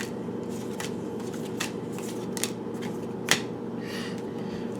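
Tarot cards are shuffled by hand in a quiet room, several crisp riffling bursts and sharp card flicks at irregular intervals over a low steady hum, close and clear.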